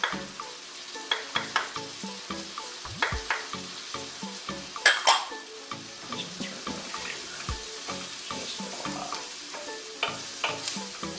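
Flour is stirred and cooked in a pan to make a roux for turkey curry, a soft, steady sizzle punctuated by repeated scraping and knocking strokes of a spoon, close and clear with no talking.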